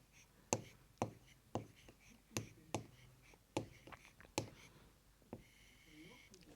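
Marker or chalk strokes on a board during a primary maths lesson, a series of sharp taps and scratches spaced roughly half a second to a second apart, close and fairly quiet.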